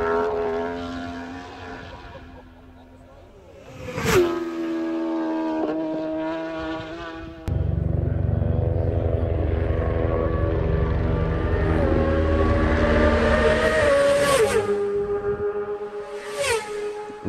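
Race motorcycles at the Isle of Man TT rip past in loud, high-pitched engine whines that dip in pitch as each bike flies by, followed by a sustained roaring passage and more sharp passes near the end.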